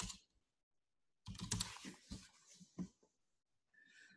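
Fast bursts of typing on a computer keyboard while entering a search on a stock filings website, clustered keystrokes close to the microphone with short pauses between runs.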